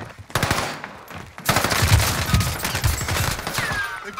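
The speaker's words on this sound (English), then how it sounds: "Taking fire!" Loud automatic rifle fire in the Warzone video game, long rattling bursts after a short opening volley, fast and continuous with little talk over it.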